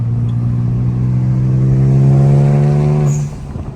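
A turbocharged BMW 335i with a 6-speed transmission pulls hard on a country back road, its engine droning loud and steady as it rises in pitch, then cutting off sharply with a short hiss from the blow-off valve.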